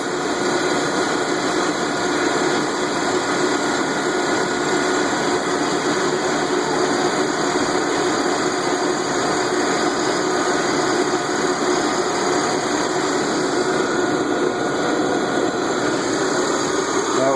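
An automotive AC recharge machine runs while equalizing its hoses, giving a steady, loud mechanical hum and vibration that holds unbroken and close for the whole stretch, with no clear talk over it.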